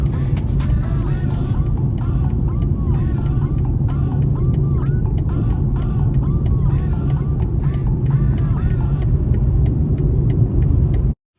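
A BMW 320i on Radar Dimax R8+ tires accelerates hard, its engine a steady loud drone with road rumble running throughout, heard from inside the car and cutting off abruptly at the end.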